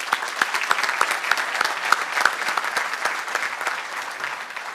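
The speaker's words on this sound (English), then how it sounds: "Please give them a round of applause." An audience at a regional chamber of commerce business awards event breaks into sustained, moderately loud applause, a dense patter of clapping hands with a few sharper close claps, with no voices over it.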